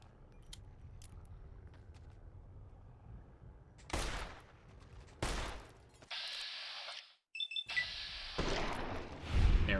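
Gunfire in Fallout: New Vegas: three sharp shots with broadband bursts spaced a second or so apart, then a sustained bright hiss and a final burst, all over a low ambient game rumble.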